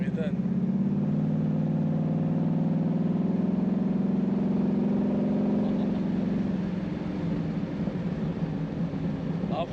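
A muscle car engine runs close by with a steady, throbbing low rumble for about ten seconds. The tone eases slightly near the end.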